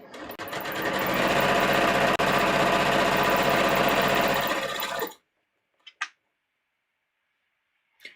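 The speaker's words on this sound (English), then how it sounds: "I'm sewing together a second muslin for the draft I did." Sewing machine stitching a muslin bodice draft in one continuous loud five-second run, then stopping, followed by a few faint clicks.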